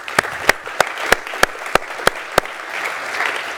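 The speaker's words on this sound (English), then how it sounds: "a round of applause to those" A conference audience claps for three board members, a run of distinct evenly spaced claps standing out above a soft crowd bed that fades into a murmur at the end.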